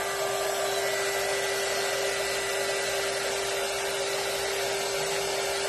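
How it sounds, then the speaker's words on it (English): Heat gun blowing hot air onto a crackle-paint finish, a continuous steady whooshing roar with a fixed motor whine, loud and close, unchanging throughout with no talking. "Y'all, this thing is a heat gun"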